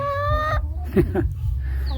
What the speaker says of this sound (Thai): ไก่ไข่พี่น้องเอ้ย